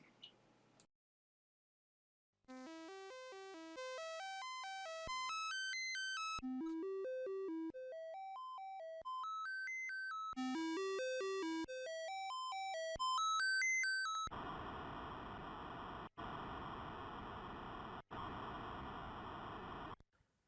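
Commodore 64 sound test played through an ARM SID replacement chip: rapid rising and falling chiptune arpeggio sweeps, then bursts of harsh white-noise hiss split by short gaps, fairly quiet and with no speech.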